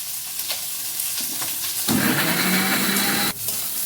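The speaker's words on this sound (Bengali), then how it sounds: "ডাঁটাটা ওদিকে আমার ভাজা হচ্ছে" Drumstick stalks frying in hot oil while a Bengali shukto is cooked, a steady close sizzle that swells sharply partway through with a few light clinks of stirring, with no talking.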